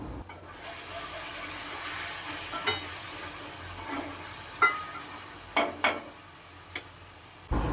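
Garlic and tomato frying in a pan, a soft steady sizzle with several sharp scraping strokes of a spatula standing out near the end, close by and without speech.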